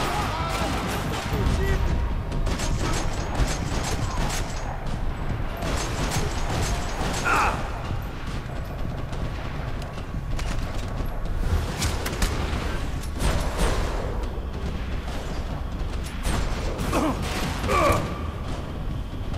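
Gunfire in Max Payne 3 mixes with game effects and mechanical clatter. Several sharp shots stand out against a busy, steady backdrop, with a few louder bursts toward the end.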